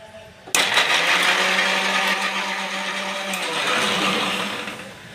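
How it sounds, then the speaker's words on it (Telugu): A mixer grinder starts abruptly and runs at full speed, a loud, steady high-pitched whir that stays close and constant for several seconds before easing slightly toward the end. "మిక్సీ ఒక తిప్పుకోవడం."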